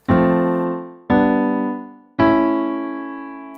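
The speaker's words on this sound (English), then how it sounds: "I'm just going to play the piano." Piano plays a chord progression of three sustained chords, each struck firmly and left to ring and decay, heard alone and close.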